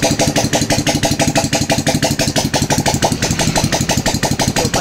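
Small 115 motorcycle engine, a Smash converted to Sniper head, idling steadily while warming up, a fast even putter with a rapid regular pulse, close and loud throughout.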